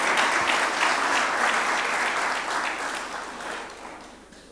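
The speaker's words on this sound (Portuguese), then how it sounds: "Agora podem bater palmas." An audience applauds together in a hall, dense steady clapping that gradually fades over a few seconds, with no talk over it.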